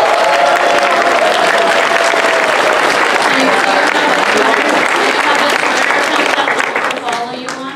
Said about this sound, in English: Give another round of applause for Kaylee.